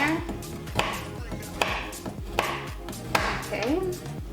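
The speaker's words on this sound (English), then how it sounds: "for this I'm gonna be chopping some of the chocolate chips" A knife chops chocolate chips on a cutting board in four sharp, evenly spaced strokes, close by, with faint scraping between cuts.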